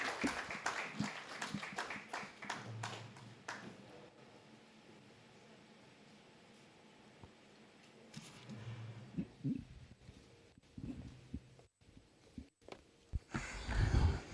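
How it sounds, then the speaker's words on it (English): Applause for the guest of honor at an annual conference: a burst of clapping from the audience at the start that thins out, followed by a quieter stretch with scattered movement and room noise, then more clapping near the end. "Another round of applause for our guest of honor."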